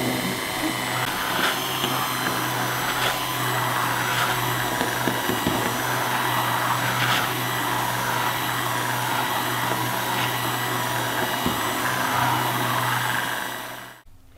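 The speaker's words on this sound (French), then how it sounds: "à travailler avec le mixeur." An electric hand mixer whirs steadily through an almond tart filling with sugar, bicarbonate and tart cream, a loud continuous motor drone with a low hum that runs for about fourteen seconds before cutting off abruptly.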